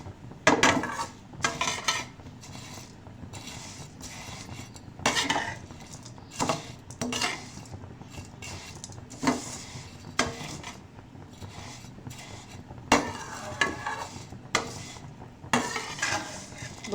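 Vermicelli being dry-roasted and stirred in a pan for sweet seviyan, a spatula scraping and clinking against the metal in irregular bursts, fairly close, with quieter stretches between strokes and no talk.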